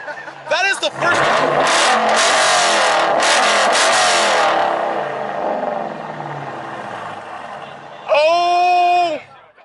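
A sports car at a private car meet revs loudly, a roaring burst filling the first few seconds and fading, followed later by a shorter sharp rev; people talk around it.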